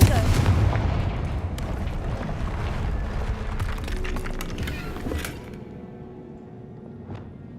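A Confringo blasting spell goes off in the Hogwarts Legacy video game with a loud, deep boom that rolls on as a heavy rumble, scattered with crackling debris, before fading to a quieter tail.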